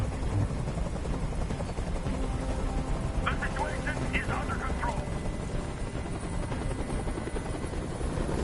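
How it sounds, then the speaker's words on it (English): A helicopter hovers in the video game Detroit: Become Human, its rotor drone loud and constant throughout while someone speaks over it. "I can't stand that noise anymore. Tell that helicopter to get out of here."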